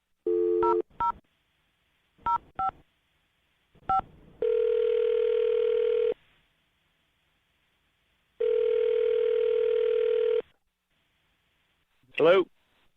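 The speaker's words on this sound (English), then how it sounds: "I'm going to dial the phone number right now." Dialing a phone number on a telephone: several short bursts of touch-tone keypad beeps, then two long steady ringback tones separated by silence. The sound is close and clear, and a brief voice comes at the very end.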